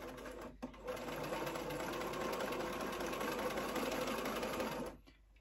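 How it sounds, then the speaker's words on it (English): A sewing machine stitching along cotton twill tape runs in one continuous, even mechanical whir for about four seconds, starting and stopping cleanly, heard alone and fairly quiet. "sew for about 8 inches to give me a nice tail on the cotton twill tape"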